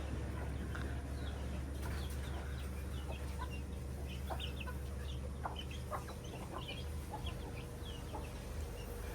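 Chickens cluck faintly and sporadically in the distance over a steady, noisy outdoor background hum.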